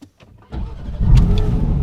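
A Porsche GT4 RS engine starts after a couple of clicks and settles into a deep, loud, close idle rumble from the car's exhaust.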